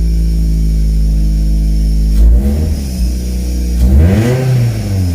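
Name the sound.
Toyota MR2 car engine running and revving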